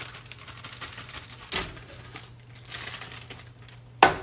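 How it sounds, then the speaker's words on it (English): Disposable cutting board crinkling as a T-bone steak is laid on it, faint soft crackles with a sharper rustle midway and a crisp crinkle at the end over a low hum. "I'm going to put it on my disposable cutting board"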